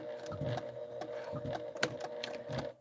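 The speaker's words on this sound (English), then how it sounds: "my machine took an extra stitch" A quilting sewing machine stitches in short bursts, going backward and then forward at a corner, with soft rapid mechanical ticking close by and no talking.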